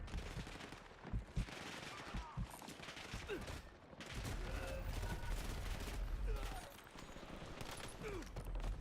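Gunfire in Call of Duty Warzone: dense, loud volleys of rapid shots and bursts crackle almost without pause, forming a continuous chaotic fusillade with heavier booming thuds underneath.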